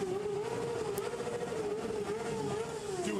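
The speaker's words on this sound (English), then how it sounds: "a group of motorcycle riders that have been riding up and down through the downtown streets" Motorcycles riding up and down downtown streets at night amid unrest, a steady droning engine note holding a fairly even pitch for a few seconds, moderately loud over a busy crowd-like background, no talk.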